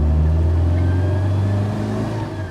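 Classic MGB sports car engine accelerating on a drive, a loud steady mid-pitched drone with a strong low hum that eases slightly toward the end, heard close up without voices.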